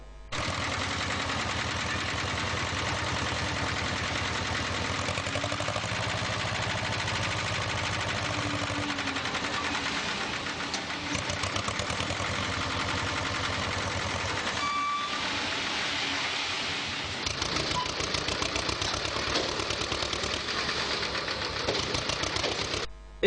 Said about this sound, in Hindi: इस अभियान में जेसीबी मशीन और ट्रैक्टर ट्रॉली द्वारा क्षेत्र का कचरा उठवाकर शहर के बाहर फेंकवाया गया।